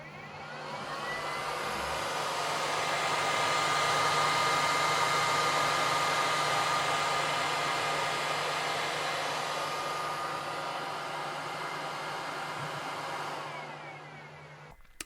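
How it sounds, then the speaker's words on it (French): Top cover fans on a Snapmaker U1 3D printer blow steadily, a loud, even whooshing with a faint low hum that holds for about thirteen seconds before it winds down. "le ventilateur de la chambre souffle bien"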